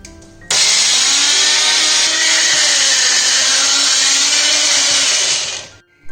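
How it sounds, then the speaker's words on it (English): A mixer grinder coarsely grinding green chili chutney without water starts abruptly with a loud, steady high-pitched whine and rattling that holds for about five seconds, then cuts off and winds down, close and alone. "let's close it and let's grind it coarsely"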